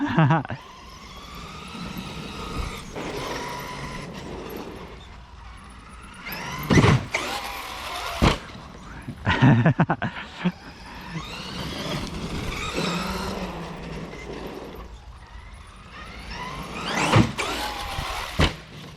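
An E-Revo 2.0 RC truck drives under throttle, giving quiet electric whines that swell in repeated bursts with sharp squeals and knocks, over a soft background.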